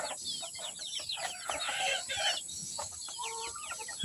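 Free-range kampung chickens and roosters cluck and call together on a farm, a continuous busy chorus of overlapping clucks and squawks at moderate distance, with brief crowing-like calls toward the end.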